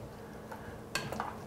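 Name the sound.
mixing yogurt sauce with dried mint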